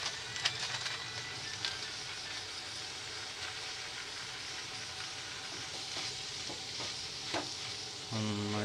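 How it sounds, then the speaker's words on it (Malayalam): Chicken curry masala with meat masala powder sautés and gets stirred in a pan, producing a dense, continuous sizzle with occasional scraping clicks of a spoon, steady and close throughout, no talking. "നന്നായിട്ട് വഴറ്റി എടുക്കുന്നുണ്ട്."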